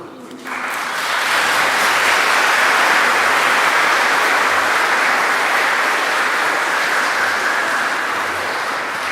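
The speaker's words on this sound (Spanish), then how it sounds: "Así que un fuerte aplauso" Loud, sustained applause from a church congregation at the end of a Sunday Mass, starting abruptly and holding steady as a dense wash of clapping with faint voices underneath.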